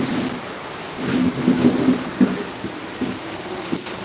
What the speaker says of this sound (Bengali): আসলে বৃষ্টি হচ্ছে প্রচুর পরিমাণে